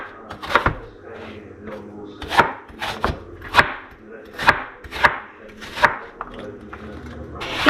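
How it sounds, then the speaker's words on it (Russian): A knife chops a peeled green apple into cubes on a cutting board, giving about ten sharp, close knocks at an uneven pace. "Я просто режу сначала вот на такие долечки, а потом, как обычно, тоже режу кубиками."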